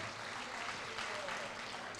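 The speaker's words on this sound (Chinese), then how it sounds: "好，再次给他们掌声鼓励一下。" An audience claps at a kindergarten graduation ceremony, a faint, steady wash of applause filling the room with voices mixed in.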